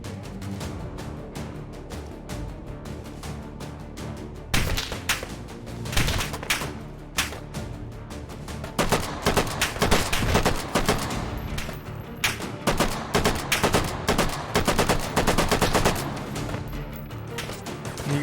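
Gunfire strikes a riot shield in the VR shooter H3VR, with dense bursts of rapid shots and sharp impacts, loud and close, building into near-continuous volleys in the second half.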